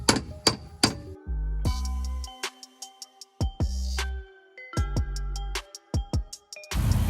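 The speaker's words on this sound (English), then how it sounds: "we're going to use a hammer and dolly to get the metal the rest of the way straight" Hammer and dolly blows straighten the sheet metal of a car's quarter panel, producing sharp metallic strikes, some in quick pairs and some with a short ringing tail, spaced irregularly and heard up close.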